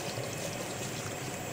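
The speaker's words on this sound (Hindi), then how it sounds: "इसके साथ ही हम इसमें डालेंगे 1 प्याली दही, जिसको हमने अच्छे तरीके से फेंट लिया था" Whisked yogurt poured into a cooking pot for a potato and cauliflower curry gives a steady, hissing, even stream of sound lasting the whole short stretch, with no talking.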